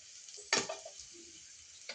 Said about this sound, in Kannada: ಅದಕ್ಕೆ ಇದನ್ನು ಸಹ ಎಣ್ಣೆಲಿ ಫ್ರೈ ಮಾಡ್ಕೊತಾ ಇದ್ದೀನಿ